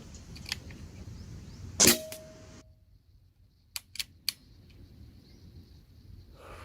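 A GM10 PCP air rifle firing pellets outdoors: one sharp, loud crack with a brief ringing tail, then three quicker, quieter clicks a couple of seconds later, against faint ambient background noise.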